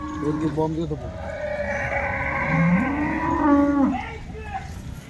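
Cows lowing repeatedly up close, one long drawn-out moo rising and falling in the middle, with a person talking faintly in the background.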